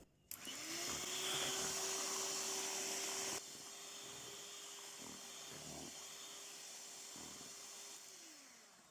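Electric hand mixer whirring steadily as it blends lemon pound cake batter, a constant motor drone running near and fairly loud for most of the clip, with brief dips and shifts in pitch as the beaters move through the bowl.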